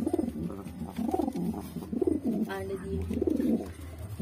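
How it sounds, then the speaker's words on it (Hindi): Pigeons coo nearby in soft, rolling, repeated calls, a steady throaty rhythm over a low background hum. "ये देखो एक और कबूतर का जोड़ा"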